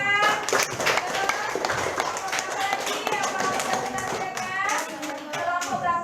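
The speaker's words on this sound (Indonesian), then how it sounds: "beri tepuk tangan untuk kelompok 4" Classroom applause for a student group: a scattered patter of many hands clapping at a fairly steady level, mixed with children's voices and chatter throughout.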